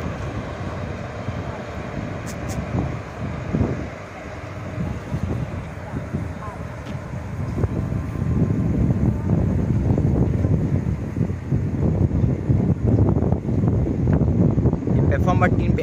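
A WAP-4E locomotive from Valsad shed hauls the VR–Surat intercity toward platform 3. A low rumble builds from the middle onward, under wind buffeting on the microphone.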